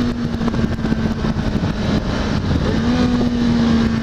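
A motorcycle engine on a wet, dangerous country road holds a loud, steady drone close to the microphone, with its pitch dipping and rising slightly as the throttle is worked.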